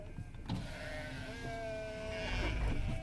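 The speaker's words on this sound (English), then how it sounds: "Hey, I see some sheep." A sheep bleats in long, wavering cries over the steady hum and rumble of a moving vehicle.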